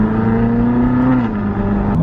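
A Ferrari California's engine hums steadily while being driven, a low sustained drone with a slight pitch dip near the end, close and continuous with no talking.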